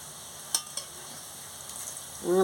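Prawn fritters deep-frying in hot oil give a steady broadband sizzle, with a couple of sharp utensil clicks early on and a brief tonal scrape near the end, close and moderately loud with no talk.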